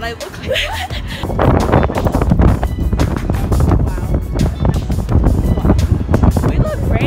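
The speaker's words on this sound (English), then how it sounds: "So windy." Strong gusting wind buffets an outdoor microphone on a blustery day in Portland, a loud steady roar with low rumble, with voices talking over it throughout.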